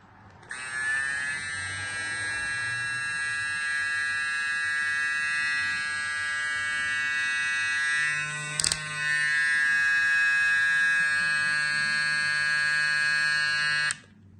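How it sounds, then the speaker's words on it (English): A VGR V195 hair clipper with a brushless motor runs steadily at close range, a bright constant buzz with one brief click partway through, holding for about fourteen seconds before cutting off. "So this hair clipper is a really good hair clipper"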